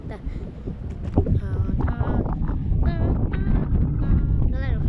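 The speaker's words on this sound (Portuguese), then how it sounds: "o vento tá muito forte." Strong wind buffets the microphone in heavy rumbling gusts, with voices talking and calling out over the roar throughout.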